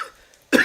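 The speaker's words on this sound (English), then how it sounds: "I've had this cough for so long" A single sharp, loud cough bursts out close to the microphone after a moment of near silence, from a woman livestreaming while ill with a lingering cough.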